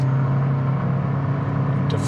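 A hybrid Toyota Land Cruiser, a 2024 model, pulls hard at full throttle while towing, heard from inside as a steady, loud, low engine drone with a slight rise in pitch.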